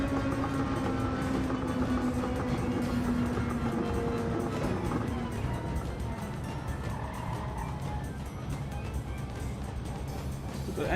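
Honda NSX race car in Gran Turismo 7 on a track: a steady engine drone with rising and falling tonal whine as it shifts, moderately loud and continuous throughout.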